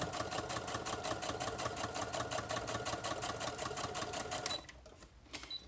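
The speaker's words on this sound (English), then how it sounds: "I'm just going to sew like right along the edge." A sewing machine stitches along the edge of a pocket on a handmade journal, a fast, even mechanical chatter at close range that runs steadily, then stops, leaving a few soft handling sounds.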